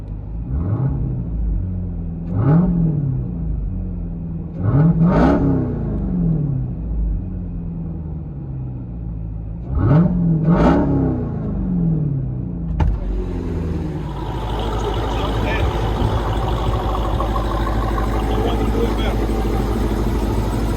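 Cabin view of a 2021 Jeep SRT Trackhawk with a supercharged 6.2L Hemi V8 and Corsa Extreme exhaust, a series of muffled revs rising and falling, then a steady rumbling drone, with people talking over it.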